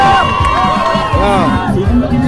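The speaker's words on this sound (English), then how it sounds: "that is a large turnout, large crowd, large shout out for Abiy administration" Large rally crowd at a Minnesota gathering supporting Dr. Abiy's administration, shouting and cheering in dense overlapping voices, loud and close.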